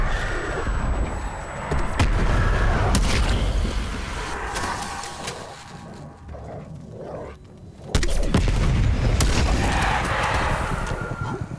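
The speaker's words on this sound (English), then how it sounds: "Sending frag grenade." A frag grenade blows up in a video game firefight, a loud booming blast among heavy gunfire and slams, with a second strong burst later and no voices over the noise.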